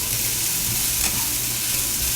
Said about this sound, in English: So we're just going to saute these suckers.